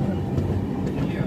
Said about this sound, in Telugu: కావలి స్టేషన్ నుండి అయితే మన ట్రైన్ అయితే బయలుదేరిపోయింది